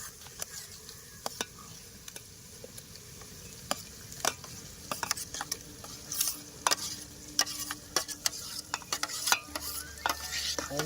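Roasted eggplant mash for Kathiyawadi oro hits a hot pan, with a soft steady sizzle under repeated sharp scraping and clacking stirring strokes close by, growing busier toward the end; no talk.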